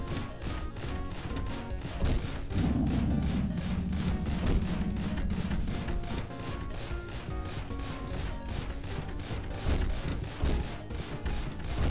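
Triple-shot gunfire from the video game Dead Estate crackles in dense, rapid bursts over steady game music and effects, loud and continuous throughout with repeated sharp hits.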